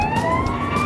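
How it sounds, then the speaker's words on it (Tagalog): A fire truck siren wails steadily through the street at night, loud and continuous, its tone sliding slowly upward over a low rumble of traffic. "May bumbero."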